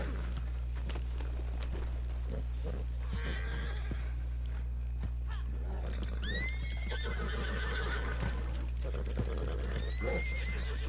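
Horse in the video game Red Dead Redemption 2 whinnying twice over steady clip-clopping hooves and scattered game effects, with a constant low hum underneath.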